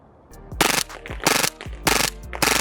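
A WE Galaxy G-Series gas blowback airsoft pistol fires four rapid full-auto bursts, each a sharp, loud rattle of shots close by with brief pauses between them.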